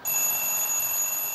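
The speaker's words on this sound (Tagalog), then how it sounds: "Alarm yan eh." Electronic alarm tone ringing continuously, a steady high-pitched beep sustained at moderate loudness throughout with no voices.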